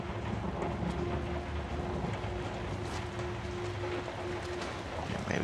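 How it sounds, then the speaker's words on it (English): Steady rain hisses in the horror video game Outlast, a continuous wash of falling water with a low rumble beneath and no talking. "And of course it's raining."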